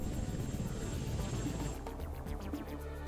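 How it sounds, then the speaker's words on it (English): Enemy planes from the video game Front Mission 2 roar in with a dense, whooshing engine drone that shifts partway through, mixed with game noise and no talking. "Planes are coming in."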